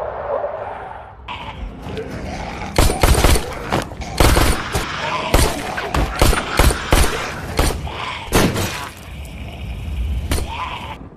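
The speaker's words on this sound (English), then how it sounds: "there Jesse and Tori fought the zombies with their guns." Gunfire from a zombie movie shootout inside a building: a loud, ragged burst of repeated shots and impacts with crashes and breaking sounds, close and dense for several seconds, easing toward the end.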